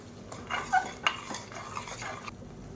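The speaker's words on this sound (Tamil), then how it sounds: "இப்போ இதில் நம்ம அரைச்சி வச்சுருக்க இந்த பேஸ்ட்டை சேர்த்துக்கலாம் சேர்த்துட்டு நல்லா வதக்கி விட்டுக்கலாம்" Ground masala paste sautéing in a pan for mutton kulambu, with a utensil stirring and scraping in several uneven strokes, light metallic clinks, and a faint sizzle underneath.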